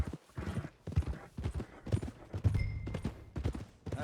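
Horse hooves clip-clop at a steady walking pace in Red Dead Redemption 2, each hoof strike distinct and close, with low game ambience underneath.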